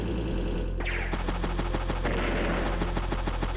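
Rapid machine-gun style bursts and repeated firing thuds from a medium tank attack in the video game Advance Wars: Days of Ruin, loud and dense, playing alone without voices.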